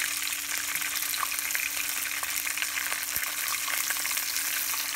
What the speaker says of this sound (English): So to this, I'm going to add chilies and curry leaves, dry red chilies, green chilies,